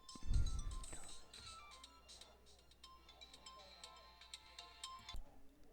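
Incoming phone call ringtone, a bright repeating electronic melody playing for several seconds at moderate volume indoors, with a brief low thump at the start and near the end.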